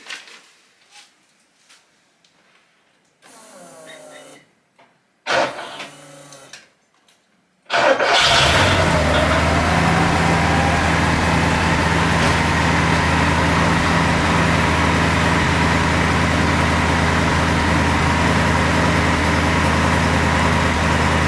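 A Porsche 928 V8 with a newly finished exhaust cranks with a few short bursts, then fires and settles into a loud, steady, close idle that runs on unbroken.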